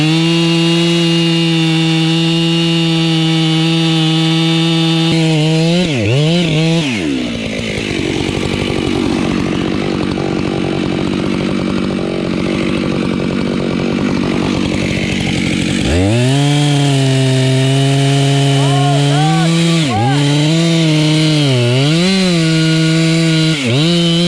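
A chainsaw boring into the center of a heavily leaning tree during logging, loud and close: the engine revs high, bogs down deep in the wood for several seconds, then climbs back to a fluctuating roar as the cut continues.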